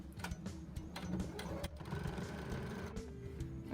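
A sewing machine runs continuously, stitching denim shorts made from upcycled pants, with a steady close mechanical whirr and rapid needle clatter throughout, and no voice over it.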